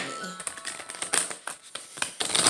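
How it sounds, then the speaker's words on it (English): Cards riffled and shuffled in quick bursts of soft papery flutter, close up, with a few light taps between. "Can I shuffle these cards?"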